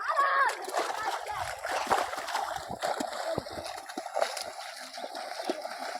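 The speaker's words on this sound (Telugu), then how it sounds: "చూడండి గాయస్ ఎంతమంది స్నానం చేస్తున్నారు" People bathing in a stream, with scattered splashes and sloshing water under overlapping voices of adults and children.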